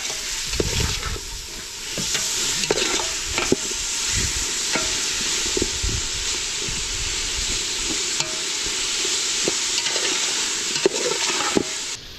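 Tomatoes frying in a pan for a home-cooked lunch, a steady broadband sizzle running throughout with repeated scraping and clacking as a utensil stirs them, close and fairly loud, with no talking.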